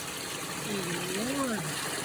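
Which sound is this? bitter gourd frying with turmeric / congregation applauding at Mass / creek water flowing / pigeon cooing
creek water flowing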